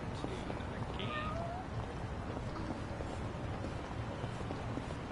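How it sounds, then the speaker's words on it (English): Kitten meowing in the video game Yakuza: Like a Dragon, a single short mew heard in the distance over a constant wash of background ambience. "Oh, there's another kitten."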